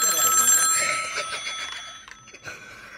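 Vintage rotary dial telephone connected to a landline rings its mechanical bell in a loud, close, metallic burst that fades out over a couple of seconds.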